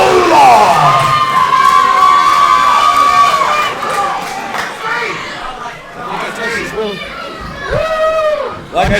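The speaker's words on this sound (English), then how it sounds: "a round of applause for the Bruiser, Barry Koloff" A wrestling crowd at a Rocket City Championship Wrestling event cheers and shouts in a loud, sustained roar of mixed voices, with high whoops rising and falling throughout.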